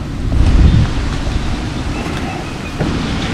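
Strong outdoor wind buffeting the microphone in a steady, loud rumbling roar with a heavier gust near the start, with no clear talk over it.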